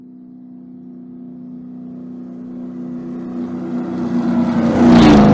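A car approaches from a distance, its steady engine hum swelling gradually louder before rushing close at the end, with the pitch beginning to drop as it passes.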